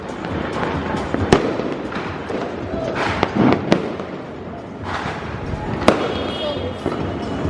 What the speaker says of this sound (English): The fireworks in India are insanely loud, and yeah, it's been so many fireworks.